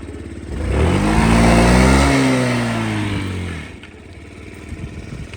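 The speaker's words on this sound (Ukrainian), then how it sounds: "ви можете завести його і є бокова підніжка, на ній він не їде, тобто відсікає оберти бачите?" A fuel-injected Yamaha Gear 4T scooter engine runs close by, revving up with a rising then falling drone before its revs are cut off on the side stand and it drops to a quiet idle.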